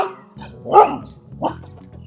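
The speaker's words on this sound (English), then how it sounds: "now the dog's gonna get stupid on me" A pet dog barks indoors, two or three loud yaps close by with a woman's speech mixed around them.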